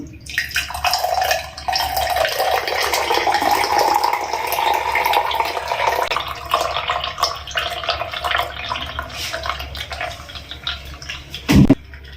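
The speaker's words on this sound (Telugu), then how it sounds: "ఇప్పుడు జ్యూస్ గ్లాస్లోకి సర్వ్ చేసుకుందాం. నేను ఇలాగే పోస్తున్నాను." Freshly blended beetroot juice pours into a glass in a long, steady gurgling stream, close and fairly loud, ending with a brief knock near the finish.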